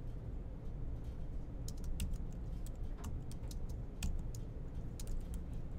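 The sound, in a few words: typing code on a computer keyboard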